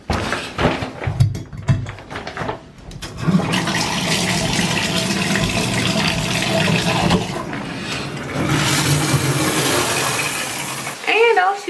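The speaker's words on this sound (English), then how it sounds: "I am on my way to go take a shower." Steady running shower water in a home bathroom, a broad continuous hiss that holds for most of the span after some brief voices and movement at the start.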